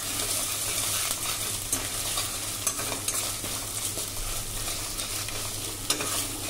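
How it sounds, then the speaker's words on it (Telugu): Ginger garlic paste with spices frying in a pan for soya pulao makes a continuous, fairly loud sizzle with intermittent scraping and stirring clicks throughout. "ఇదే ఫ్రై చేసుకుందాం."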